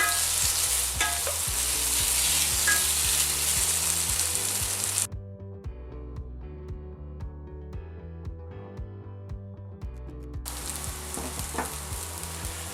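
Tomato paste fries with carrots in a pot for a beef tripe stew, a close, steady sizzle with stirring scrapes that drops sharply quieter midway and then returns full, no voices.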